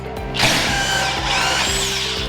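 A power tool whirs steadily against a 17mm sway bar bolt on a Nissan Titan, loud and close, with a continuous motor whine that rises in pitch and then holds for about two seconds.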